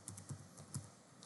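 Quiet keystrokes on a computer keyboard while typing a localhost address into a login page, a handful of soft, irregular clicks spaced across a little over a second, alone with no voices.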